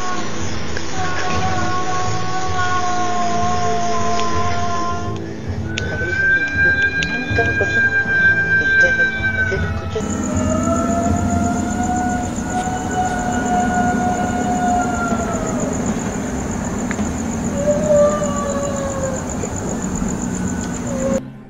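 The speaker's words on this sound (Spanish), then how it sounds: "sigue estremeciéndose el lamento aterrador de La Llorona" A recording presented as the wail of La Llorona from Mexican legend plays as wavering, rising and falling siren-like tones with a sudden shift in sound partway through, loud and continuous.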